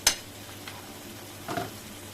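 Spice masala sizzles in a pan with two short scraping stirs against the metal, one at the start and one near the end, over a quiet, continuous background fizz.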